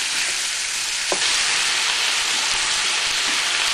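Lamb sears in a pan over fairly high heat for a curry, giving a loud, steady broadband sizzle with one brief knock partway through and no voices.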